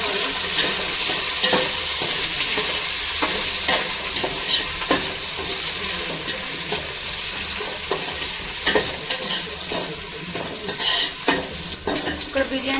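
Onions and green chillies fry in oil for a chicken dish, giving a steady, close sizzle broken by frequent scraping stirs throughout, with no talking.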